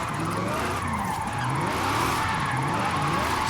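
A 2019 Zenvo TSR-S with a 1624-horsepower rear-wheel-drive drift tune in Forza Horizon 5 roars steadily in high gear while the tires squeal and skid continuously, with a faint voice underneath.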